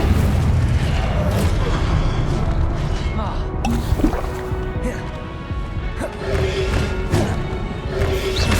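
Fire and blast spells go off in Hogwarts Legacy, with booming impacts and crackling bursts amid game effects, while a voice talks over the action.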